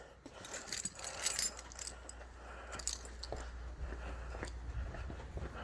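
A set of keys jingles and clinks nearby for several seconds in a garage, with metallic rattles rising and falling in irregular bursts over a low background rumble.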